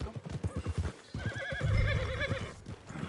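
A horse whinnies loudly and its hooves clop on the ground in the video game Red Dead Redemption 2, a close neigh rising over quick rhythmic hoofbeats.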